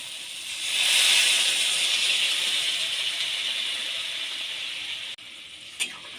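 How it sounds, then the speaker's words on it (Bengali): Water poured into a hot pan of curry with fried spices sets off a loud, steady steam hiss that swells quickly, holds for several seconds and then fades, ending with a brief clink. "এবার আমি জল দিয়ে দেব"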